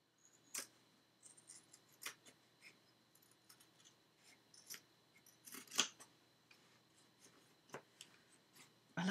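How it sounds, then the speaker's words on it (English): Scissors trimming paper off a book during a craft session, making a series of sharp, crisp snips and clunks at irregular intervals, close and fairly quiet with no talking. "I love these scissors. They make such a good, satisfying clunk."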